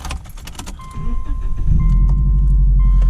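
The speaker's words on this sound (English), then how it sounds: "But it's got a downpipe on it now, so I mean, it's pretty nice sounding." After light rattling, a Subaru car engine with an aftermarket downpipe exhaust turns over and settles into a loud, close, deep rumbling idle.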